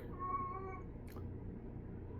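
A sick house cat gives a single faint, drawn-out meow in a quiet room, followed by a brief soft rustle.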